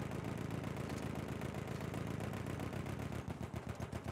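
Machine gun fire in Battlefield 1, a dense, steady rattling burst held loud throughout, with rapid individual shots toward the end.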